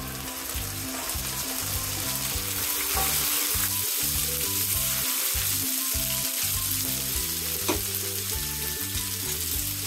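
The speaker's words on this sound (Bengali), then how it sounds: "তিরিশ সেকেন্ডের মতো আমি ভেজে নেব।" Ginger garlic paste frying in oil for Kashmiri polao, a continuous close sizzle and crackle lying under steady rhythmic background music.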